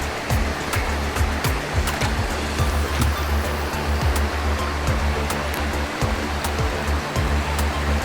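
Water from a karst resurgence spring pours into a stream, a loud, steady broadband rush with constant splashing, close by and uninterrupted, with no voices.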